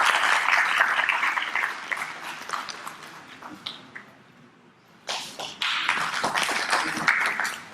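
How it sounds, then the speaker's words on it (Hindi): Audience applause at a university placement event for students breaks out in dense, bright clapping, tapers to near quiet around the middle, then surges again into a second full round. "तालियां बजाकर"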